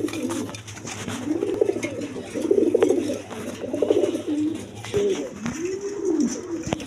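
Several farm-bred pigeons coo in a steady, overlapping rhythm at close range, soft rounded calls repeating throughout with no voices.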